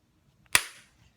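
A single sharp crack of a hammerstone hitting a tough river cobble during flintknapping, loud and close, with a short ringing decay and near silence around it.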